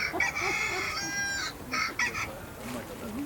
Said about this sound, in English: What the heck kind of chicken is that?